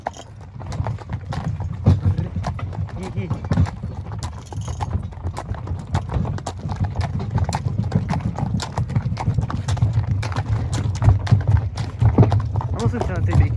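Horses walk along, hooves clip-clopping in a steady, uneven rhythm at close range, while people talk over the hoofbeats throughout.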